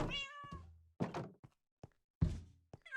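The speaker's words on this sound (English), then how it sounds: "we've got another cat" A house cat meows a few times in short, clear calls separated by quiet gaps, close by, with a soft thunk or knock between them.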